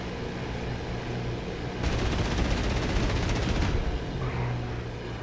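Machine gun fire aimed at a plane in DCS combat flight simulator, a rapid two-second burst of rattling shots over a steady aircraft engine drone.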